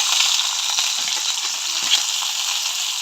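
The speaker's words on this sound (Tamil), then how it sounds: "இப்போ வந்து நாங்கள் வதக்கிறதுக்காக எண்ணெய் விட்டுக்கொள்வோம். வெங்காயம் போடுவோம்" Onion sautés in hot oil with a close, even sizzling hiss that holds steady throughout, with only faint shifts in the bubbling texture.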